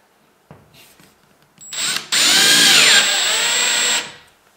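A power screwdriver drives a drywall screw into a ceiling frame, its motor rising to a loud, steady whine for about two seconds before cutting off, with a few soft handling knocks beforehand.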